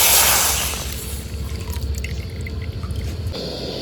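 Liquid poured into a pan while making coconut oil: a loud splashing gush at first, then a steady bubbling simmer with faint clinks, close by and without speech.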